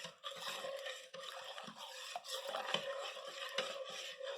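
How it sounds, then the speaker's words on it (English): Spoon stirring a bread dough mixture in a bowl, a steady scraping and rubbing with irregular strokes, close and fairly quiet, no talking. "We're going to stir until we get it dissolved."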